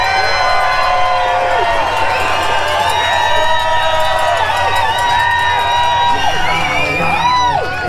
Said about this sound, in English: We want to hear your vote, and we're going to do it by applause.